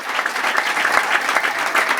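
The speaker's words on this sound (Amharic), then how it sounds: "አጨብጭቡ ለእግዚአብሔር ክብር" A church congregation applauds in a steady burst of clapping, dense and close, lasting the whole moment without a break.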